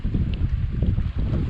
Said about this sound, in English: The wind has died a little. It was blowing, gusting 23, 24 earlier.